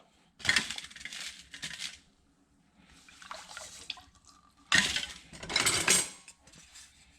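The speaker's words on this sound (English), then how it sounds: "I'll just take and dump all that in the gallon of water, get it all stirred and dissolved" Salt, sugar and Creole seasoning are dumped and stirred into a gallon of water, heard as two loud bursts of pouring, gritty rattling and sloshing with a quieter scraping stir between them, close and without speech.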